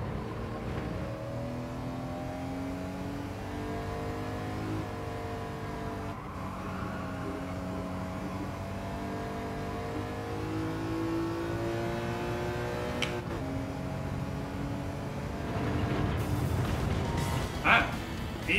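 A drift car in Gran Turismo 7 revs hard through a race, its engine note climbing and falling in repeated sweeps, steady and close throughout, with someone talking now and then over it.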